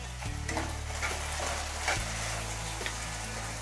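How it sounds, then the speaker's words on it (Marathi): Partly cooked potatoes turned in a pan while making sabudana khichdi: a soft, steady sizzle with a few scraping stirs over a low hum, fairly quiet and close. "आणि एकदा हे बटाटे आपल्याला हलवून घ्यायचे।"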